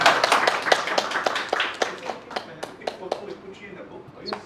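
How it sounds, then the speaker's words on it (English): Applause for a speaker at an International Women's Day event, with scattered claps that thin out over a few seconds and a voice speaking over them. "Please give a round of applause to her"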